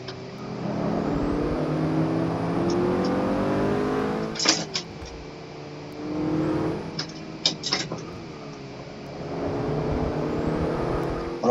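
In-game car engine from Forza Motorsport 6 on a race track, including the RS 500, rising and falling in steady revs with whirring drive noise and brief sharp bursts around the middle, loud and continuous with no talk.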